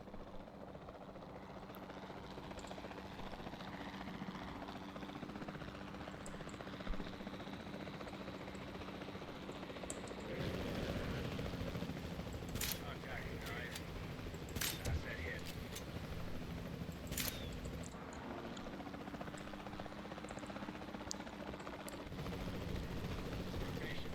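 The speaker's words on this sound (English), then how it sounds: "the sensible thing is to take a capture team helicopter" Helicopter rotor and engine drone from a capture team chopper in Jurassic World Evolution 2, a steady continuous whir running throughout with a few sharp clicks and brief louder bursts layered over the middle section.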